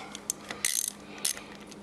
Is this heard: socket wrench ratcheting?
yes